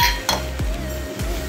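A spoon clinks and scrapes against a pan, stirring onion-garlic chutney into cabbage and capsicum over a low flame. Three distinct knocks land at steady intervals over a soft background hum.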